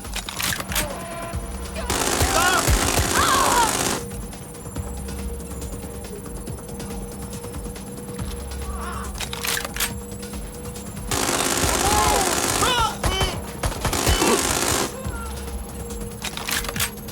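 Video game gunfire in Watch Dogs Legion comes in two loud sustained bursts of rapid shots, separated by quieter game ambience and brief sounds.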